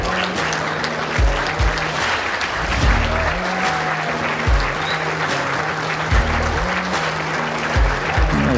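A crowd applauds continuously after an indoor bowls match at a world championship, dense steady clapping filling the hall at full strength with a low rhythmic rumble beneath it.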